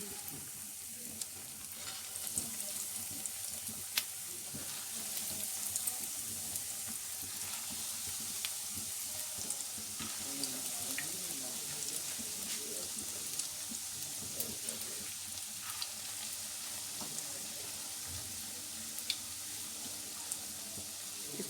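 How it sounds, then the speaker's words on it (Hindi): Breaded leftover rice kababs, coated in egg and breadcrumbs, fry in hot oil over a low flame, giving a steady close crackling sizzle with scattered pops that runs evenly throughout, with no talking. "और ऑयल भी हमारा गर्म हो गया है। अब हम इनको फ्राई कर लेते हैं।"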